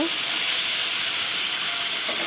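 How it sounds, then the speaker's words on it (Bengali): Loud, dense sizzling of chilli and tomato frying in plenty of oil, a constant hissing crackle throughout. "লঙ্কা টমেটো দিয়ে দেবো একেবারে, দিয়ে একবারে সুন্দর করে তেলটা বেশি দিয়ে ভেজে নেব।"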